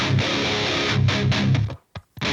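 A distorted electric guitar with a chorus effect added plays a loud rhythmic passage of chugging strums, then cuts to near silence with a couple of brief stabs at the end.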